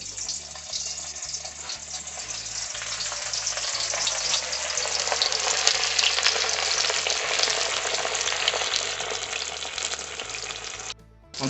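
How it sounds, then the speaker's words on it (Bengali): Catla fish pieces fry in hot oil with a steady, close, loud sizzle and crackle that runs throughout, with soft stirring noises underneath and a brief dip near the end. "সেকেন্ড রাউন্ড মাছ ভাজাও কমপ্লিট হয়ে গেছে।"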